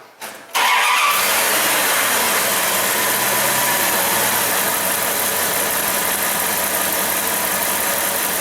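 A Dodge Ram 1500 V8 with a misfire cranks and catches after a brief starter whir, then runs loud and steady near the microphone for several seconds, with a spark tester clipped to cylinder number 8.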